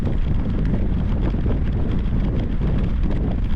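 Steady rushing wind buffets a microphone during a bike ride along a cycling path in Utrecht, Netherlands, a continuous loud low roar lasting the whole stretch with no voices.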